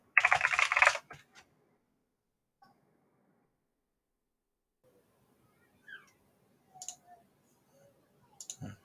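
A short burst of computer keyboard typing opens, dense and close, followed by a few scattered soft clicks and taps in an otherwise quiet room.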